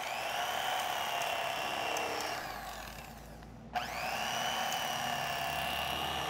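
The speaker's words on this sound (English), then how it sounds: "I'm cutting on a disposable cutting board because I don't want to use an electric knife on my fancy rosewood blocks to scuff them up." Electric knife slicing cooked brisket on a disposable cutting board, with a steady high motorized buzz that dips briefly, stops with a small thump, then starts again and runs on, close and fairly loud.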